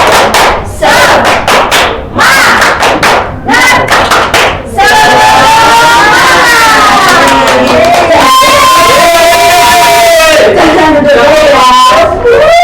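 A primary school class stands and performs a tepuk semangat clapping chant, with loud rhythmic claps and shouted group calls turning into sustained, energetic children's chanting and voices close by.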